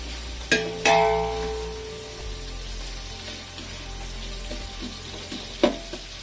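Onions frying in a large pot for chicken biryani, a steady close sizzle with a couple of sharp metal clanks from the spoon near the start and again toward the end.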